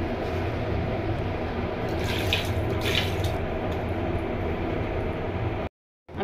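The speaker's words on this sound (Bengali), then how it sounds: "এখন আমি অল্প একটু পানি দিয়ে দিব।" Water poured into a cooking pot of marinated duck curry, a steady broad splashing rush that holds for about six seconds before cutting off abruptly, with no speech.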